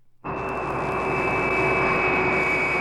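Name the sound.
airplane engine sound effect on a live television drama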